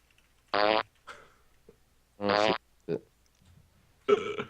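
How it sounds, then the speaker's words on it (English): A cartoonish fart sound effect from the video game Oddworld: Abe's Odyssey plays several times in quick bursts, some long and buzzing, others short and sputtering, loud and isolated against silence. "The only thing we got out of that was the fart noise."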